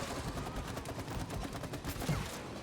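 Rapid gunfire from shooting at enemies in the video game It Takes Two, a dense, continuous burst of fast shots at moderate loudness.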